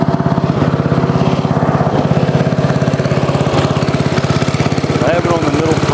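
A Cub Cadet 1110 lawn tractor engine runs at middle throttle, a loud, close, steady rapid pulsing putter with a slight waver, and someone speaks over it.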